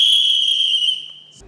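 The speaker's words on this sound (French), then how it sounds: "Ce coup de sifflet et cette balle au fond du filet" A single loud, shrill referee's whistle blast at a football match, held for about a second before cutting off, followed by faint background noise.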